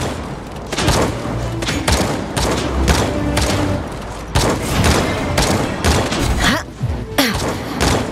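Kinessa's gunfire in a competitive match of the video game Paladins, loud repeated shots and heavy booming bursts up close, almost continuous throughout.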